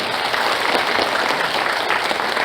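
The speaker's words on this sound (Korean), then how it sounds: "다시 한번 큰 박수 부탁드립니다" Audience at a founding convention of a national bereaved-families association breaks into dense, sustained applause, a continuous crowd of clapping hands heard alone and evenly loud throughout.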